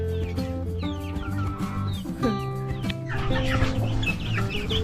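Black Australorp chickens clucking close by in a backyard coop, several birds overlapping in busy, repeated calls that grow denser and louder toward the end, with no talk.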